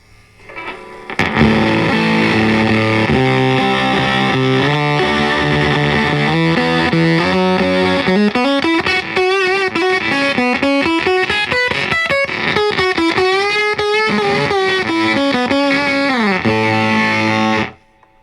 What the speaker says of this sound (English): that is a very sputtery fuzz, which does have its uses